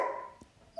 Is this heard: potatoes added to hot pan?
no